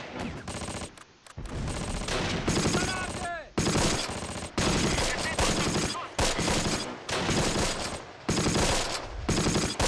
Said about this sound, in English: Oh, there's a machine gun there.